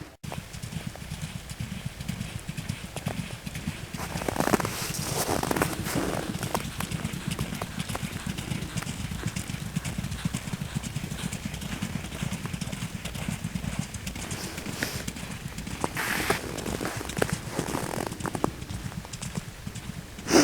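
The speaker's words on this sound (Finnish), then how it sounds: "Miten tuo pomppi tuo hevonen?" A horse pulls a sled across ice, its hooves clip-clopping in a steady, continuous rhythm from close by, with occasional louder crunchy bursts and faint voices in the background.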